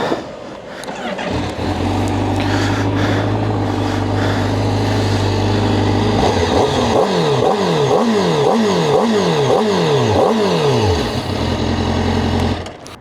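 A Honda CBR 1000 RR-R SP Fireblade motorcycle is push-button started and settles into a loud, close idle. A series of sharp throttle blips rises and falls before it returns to a steady idle.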